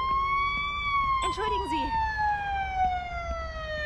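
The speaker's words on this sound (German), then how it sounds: "mach mal die Sirene aus, da versteht man ja nichts." Police car siren in the video game Police Simulator, a loud continuous wailing tone sliding slowly downward, with a brief spoken phrase over it midway.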